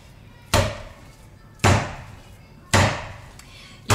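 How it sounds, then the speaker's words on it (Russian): Handfuls of minced meat for lula kebab slapped down into a bowl, four loud, sharp smacks roughly a second apart, each with a short wet decay, close by with no talking. "Вот так вот я беру в ладошку, вот сколько помещается фарша, и просто вот в этой же миске беру, бросаю ее в эту миску"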